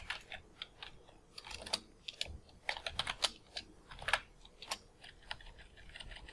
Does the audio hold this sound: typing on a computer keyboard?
yes